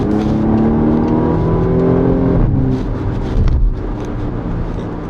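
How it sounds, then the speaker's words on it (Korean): A BMW M235i xDrive Gran Coupe's engine, over 300 horsepower, revs and accelerates close by, a deep rising growl that shifts gear and keeps pulling. "엔진 소리를 들으실 필요가 있어요."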